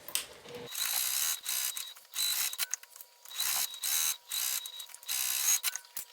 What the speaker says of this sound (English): I want to sew it down both the sides and across the bottom